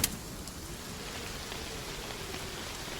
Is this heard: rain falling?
yes